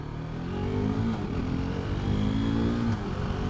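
A 2019 KTM RC 390 motorcycle engine drones and revs while being ridden, a loud, steady low growl with pitch swells as the throttle opens, wind rumble underneath and no talking.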